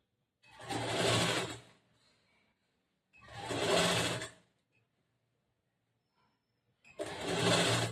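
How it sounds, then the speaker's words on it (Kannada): A sewing machine stitches a back-hook blouse in three close, loud runs of about one and a half seconds each, with short silent pauses between them while the needle is stopped. "ಸ್ವಲ್ಪನೇ ಸ್ಟಾಪ್ ಮಾಡಿ, ಸೂಜಿ ಸ್ಟಾಪ್ ಮಾಡಿ, ರಾಟಿ ಸ್ಟಾಪ್ ಮಾಡಿ, ಜೋಡಿಸ್ಕೊಂಡು ಸ್ಟಿಚ್ ಮಾಡಿದ್ದೀನಿ."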